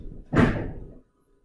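A laboratory microwave door swings shut with a single close, solid thud and a short rattle, then silence.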